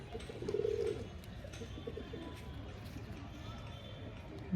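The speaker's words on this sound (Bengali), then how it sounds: "এখন আপনাদের পায়রাটি ছেড়ে দেখাই" An old-generation Kalshila Giribaz pigeon coos briefly near the start against a low background rumble, followed by quieter ambient noise.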